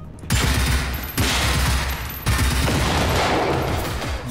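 Gunfire in the video game Generation Zero: three loud bursts of rapid automatic fire, each lasting about a second, close and punchy with echoing tails.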